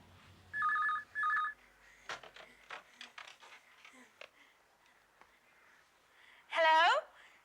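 A landline telephone rings in two short electronic bursts in a family home, followed by quick footsteps, knocks and a pickup, with a brief squealing sound near the end.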